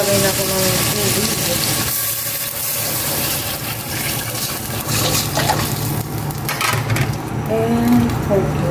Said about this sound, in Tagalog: Maglagay na ako ng tubig.